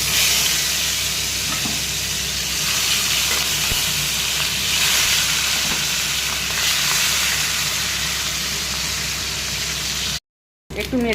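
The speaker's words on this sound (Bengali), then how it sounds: "মাছগুলো ভেজে নেব" Fish pieces rubbed with salt and turmeric fry in hot oil in a kadai, a loud, dense, continuous sizzle and hiss with occasional pops, cutting out briefly near the end.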